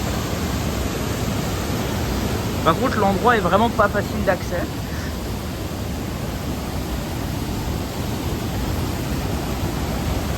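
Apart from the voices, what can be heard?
high waterfall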